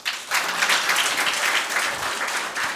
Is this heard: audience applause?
yes